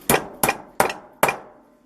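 Four sharp metallic clangs from a hammer flattening a bend in a metal counterweight mount, evenly spaced and loud, each ringing briefly before fading.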